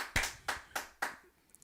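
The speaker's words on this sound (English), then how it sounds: "Give him a round of applause" Four sharp, separate claps ring out at an even pace on a talk show set, sounding like one or a few people clapping nearby, before tapering into quiet.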